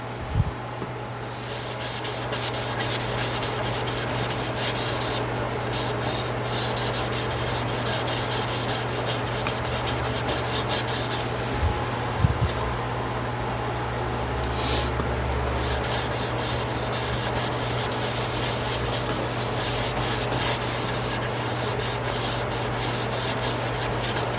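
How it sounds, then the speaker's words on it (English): Steady, close abrasive rubbing as an ambrosia maple piece is sanded while spinning on a woodturning lathe, with a constant low motor hum underneath and no speech throughout. "Sand it up really nice."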